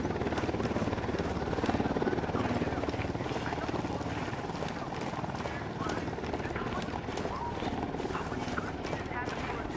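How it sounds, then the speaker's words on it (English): A helicopter approaches in Ghost Recon Wildlands, its dense rotor chop thudding loudly and steadily for the whole stretch, with game voices and combat noise mixed underneath. "Chopper incoming."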